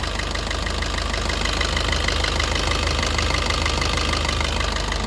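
A 2019 Maruti Baleno diesel engine idles with a steady, close clatter, a constant knocking rumble that runs the whole time with no talk.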